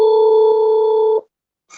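A telephone gives a single steady electronic ring tone lasting about a second, loud and close, then cuts off into silence before a faint new sound begins.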